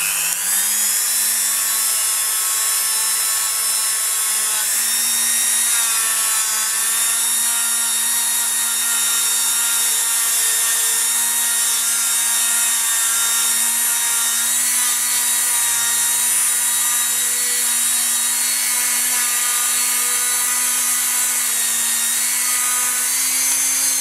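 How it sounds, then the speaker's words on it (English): A Dremel 3000 rotary tool buffs faux New Zealand abalone pieces, giving a steady, close high-pitched motor whine with slight pitch wavers throughout, alone with no talk. "I'm using a Dremel 3000 and I'm just going to buff them up"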